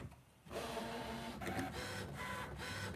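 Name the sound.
Brother ScanNCut cutting machine running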